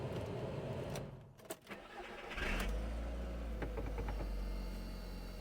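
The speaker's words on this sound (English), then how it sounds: "Let's make sure she's in neutral and see if it starts." A Honda car with about 140,000 miles cranks and catches, then settles into a steady low idle, close by with no talk over it.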